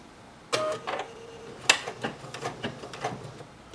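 A sewing machine doing hand-embroidery-style stitching runs in short bursts of quick mechanical clatter with brief stops and clicks, close to the ear, with no speech.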